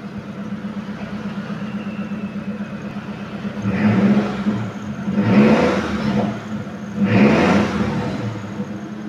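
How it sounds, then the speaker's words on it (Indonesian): A 2015 Mitsubishi T120 SS pickup engine idles steadily with a low hum, then is revved three times in separate rising bursts before settling back to idle, close and fairly loud. "Tinggal cek sekarang untuk asap knalpot bagaimana"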